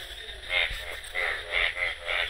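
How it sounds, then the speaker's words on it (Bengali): Frogs croaking at a rain-flooded village pond, a repeated rhythmic calling in bursts of four or five, moderately close and steady over quiet background. "আর এখানে ব্যাঙে ডাক পানছে খালি।"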